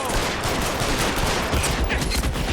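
Rapid gunfire in L.A. Noire, a continuous loud barrage of overlapping shots and bursts filling the whole stretch without pause.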